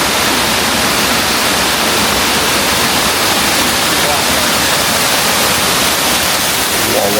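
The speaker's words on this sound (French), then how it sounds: "première chute d'eau" A waterfall in the Alquézar canyon roars as a steady, dense broadband rush of falling water, loud and close, with no break throughout.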